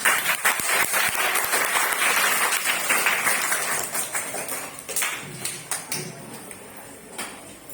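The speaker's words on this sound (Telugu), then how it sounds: "అమ్మ క్లాప్స్ కొట్టన్నా" Hands clapping in quick rapid applause that is loud and steady at first, then thins into scattered claps and fades, with some voices mixed in underneath.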